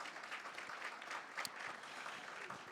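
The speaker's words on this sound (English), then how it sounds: "Let's give her another round of applause." An audience at a talent show claps steadily, a dense patter of many hands continuing evenly throughout, fairly quiet and distant.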